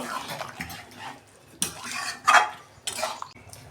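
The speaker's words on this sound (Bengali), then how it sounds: "এইটা না ভালো করে কষাতে হবে, কেননা ছালওয়ালা মাংস তো।" Skin-on chicken is stirred in a pot, with intermittent metallic scrapes and clatters of a utensil against the pan, fairly close and moderately loud.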